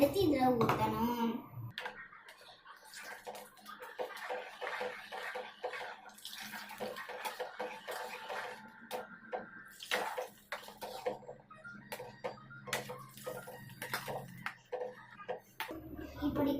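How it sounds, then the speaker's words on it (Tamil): Heated ghee is poured into bun halwa while it is being stirred, giving a close, crackly sizzling and scraping clatter in a pan, with someone talking at the start and end. "இதை கிண்டிக்கிட்டு இருக்கும் போதே சுட வச்ச கீயை எடுத்து இதுல ஊற்றணும்."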